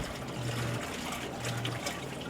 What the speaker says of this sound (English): I still got water in the creek down there.